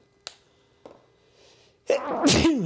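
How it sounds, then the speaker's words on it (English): A sneeze set off by pepper while seasoning meat: a couple of small sharp breaths and clicks lead into one loud, close, explosive sneeze. "That pepper did make me sneeze."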